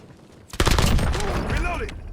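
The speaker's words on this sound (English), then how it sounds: "Taking fire!" Gunfire in a battle royale shooter: a sudden burst of close shots breaks in after half a second of quiet, with dense rapid cracks followed by a rougher ongoing rumble and some voice-like tones.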